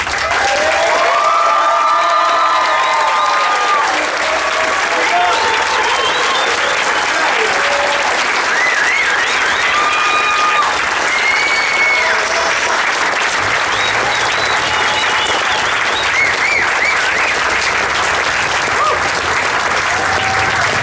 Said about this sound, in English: let's give the grad class one final round of applause today